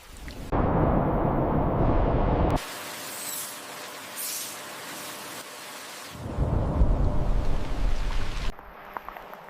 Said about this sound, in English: Rain's really starting to come down.